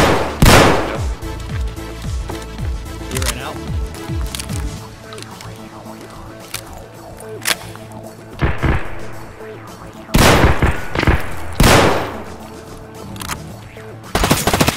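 Gunfire in the video game Escape from Tarkov rings out in repeated loud bursts of rapid automatic shots and single cracks, spread over the whole stretch, with players talking in between.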